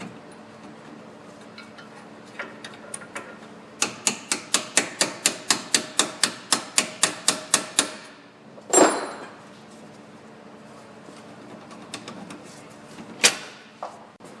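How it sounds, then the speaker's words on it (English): A hammer strikes a metal punch to drive out a pin during a Ford Fusion 6F35 transmission axle seal repair, in a quick, even run of about a dozen sharp taps, then a heavier clank and a few scattered strikes. "It's going to use a punch to pop it out the other side."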